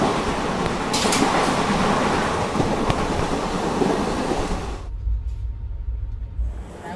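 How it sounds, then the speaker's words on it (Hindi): Inside the Ahimsa Express train pulling into Shivaji Nagar station, a loud, broad rattling rumble of the carriages fills the space, then drops abruptly to a low, quieter hum as the train slows. "दोस्तों हमारी ट्रेन अपने लास्ट हॉल्ट शिवाजी नगर पहुँच गई है।"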